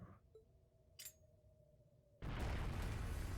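A bomb detonates in Trails of Cold Steel: after a quiet stretch with a faint hum and a short whoosh, a sudden loud, sustained roaring blast erupts and fills the rest of the moment.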